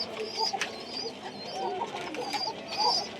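Pigeons on a pigeon farm coo in soft, repeated throaty phrases from several birds nearby, steady and moderately loud with a light background hum.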